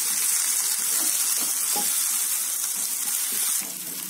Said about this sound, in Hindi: अब हम इसमें अदरक लहसुन का और मिर्च का पेस्ट डालेंगे और इसे थोड़ा चला लें।